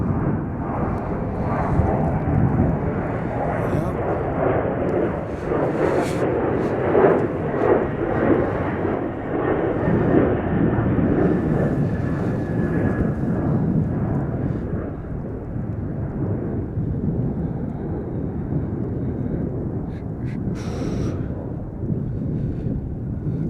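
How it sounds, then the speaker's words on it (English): A United Boeing 737-900ER airliner takes off from Chicago O'Hare, a steady broad jet roar mixed with heavy wind buffeting on the microphone, loud and sustained throughout with no talk. "United 2729 off to Portland, Oregon on a"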